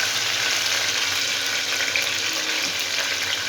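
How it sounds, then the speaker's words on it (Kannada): Garlic frying steadily in hot oil, a dense continuous sizzle heard close and alone, with no talking over it. "ಈಗ ಬೆಳ್ಳುಳ್ಳಿ ಫ್ರೈ ಆಗ್ತಾಯಿದೆ"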